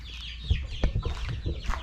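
A hen walking about outdoors on a chicken farm clucks in a quick run of short, close calls, several soft clucks in a row with no talking.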